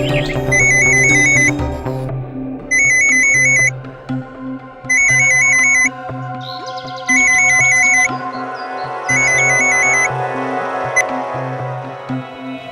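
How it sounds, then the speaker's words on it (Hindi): A phone ringtone plays in repeated electronic bursts, about five rings spaced evenly, loud and close over a steady background hum. "फोन क्यों नहीं उठा रहा है?"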